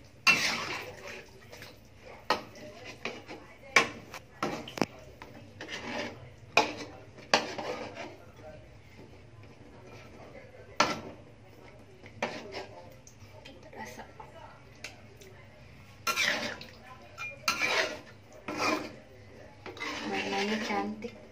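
Metal utensil scraping and clinking against a pot of chicken and potato curry in irregular bursts as it is stirred, with occasional quiet talk in between.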